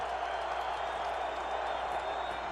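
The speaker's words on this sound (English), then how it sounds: "So the crowd getting a little noise here on 1st and 10 for Cutler." Football stadium crowd at a Bears versus Lions NFL game, a steady, dense roar of many voices holding at an even level throughout, with no single voice standing out.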